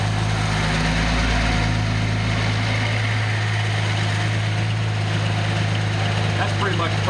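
A Nissan 280ZX turbo engine runs on a test stand with a steady, loud, close mechanical drone and a low, even hum at constant revs.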